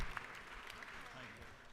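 Applause for a group of student government students in a state capitol chamber, a steady crowd patter filling the room, fairly faint and even throughout with a little voice mixed in.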